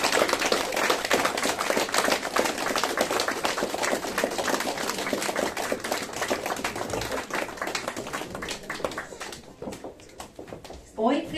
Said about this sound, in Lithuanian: Palydėkime svečius gausiais plojimais